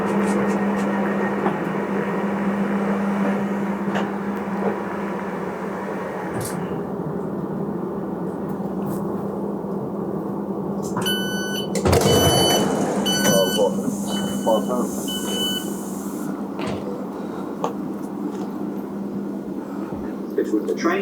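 Rumbling Thameslink train ride to Dartford, a steady low hum of running gear throughout with a burst of electronic door-warning beeps near the middle and passenger voices underneath.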